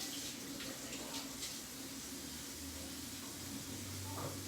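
Water runs steadily from a kitchen sink tap while hands are washed, a constant close hiss with faint splashing and a low hum underneath.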